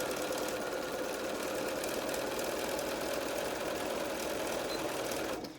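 A sewing machine runs continuously while stitching and backstitching a seam on a fitted fabric face mask, a steady close-up mechanical whir with rapid needle clatter that stops abruptly at the end.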